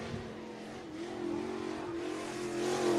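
A dirt track race car at Cottage Grove Speedway in Oregon revs its engine through a timed qualifying lap, a rising mid-pitched roar that builds steadily and grows louder toward the end.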